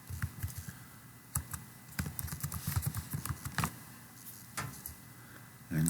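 Steady typing on a computer keyboard, a run of close, quick key taps in uneven rhythm that stops briefly before a few more strokes, with no talking.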